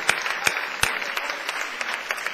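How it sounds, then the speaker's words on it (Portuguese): Church congregation applauding during a morning service, with a few sharp individual claps standing out over lighter scattered clapping close by. "Volte para o seu lugar aplaudindo ao Senhor pela sua palavra"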